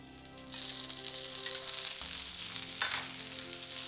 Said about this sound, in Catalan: ara, quan tenim l'oli ben roent, les posem aquí a fregir